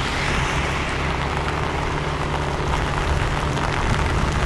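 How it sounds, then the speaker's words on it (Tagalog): Heavy rain pours down while a Yamaha NMAX turbo scooter climbs a wet uphill road, a loud, dense, unbroken roar of rain and wind noise with a low engine drone underneath. "Ayan, lakas na ng ulan mga boss."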